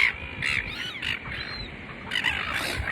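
Birds, tagged as crows, calling at Waihi Beach while being fed, with repeated harsh caws and squawks close by over steady beach background noise.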